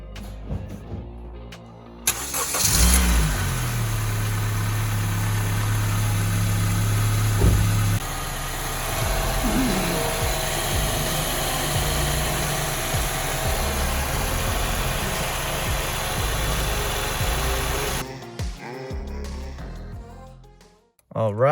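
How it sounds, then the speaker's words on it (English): A 2016 Honda Civic engine starts up after a service, running at a high idle before settling into a steady, even idle heard up close, with talking over parts of it. "Let's start the car, make sure there's no leaks."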